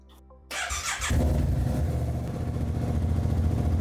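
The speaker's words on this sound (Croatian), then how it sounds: "Sad ćemo morati upaliti motor" After a moment of quiet, a motorcycle engine cranks, catches and settles into a steady, loud idling rumble.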